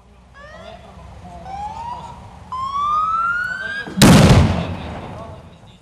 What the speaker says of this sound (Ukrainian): Цей вибух був необхідний для запобігання утворення льодового затору.